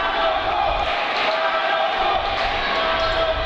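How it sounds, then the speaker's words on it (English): Basketball arena crowd at a youth game, a dense roaring mass of voices chanting in unison, steady and loud throughout with no pauses. "We got the crowd chanting Final Four."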